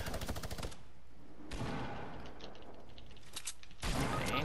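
Rapid bursts of minigun fire in Fortnite, close and loud, coming in several dense rattling volleys separated by brief pauses.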